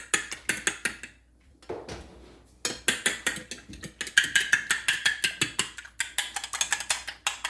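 A whisk beating egg with a splash of milk in a bowl, quick rhythmic clinking strokes in steady bursts with a short pause partway, close and fairly loud with no talking.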